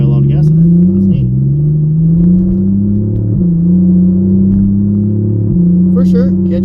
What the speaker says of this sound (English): It sounds nice. What model? It's a Porsche Cayman, a 2016 Cayman.